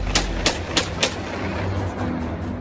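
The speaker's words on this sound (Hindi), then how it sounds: "निज्जर AK-47 से एक के बाद एक कुल 5 गोलियां चलाता है।" Five AK-47 rifle shots fired one after another in a steady, evenly spaced rhythm, each a sharp crack followed by a short decay, then a stretch of rumbling outdoor background noise.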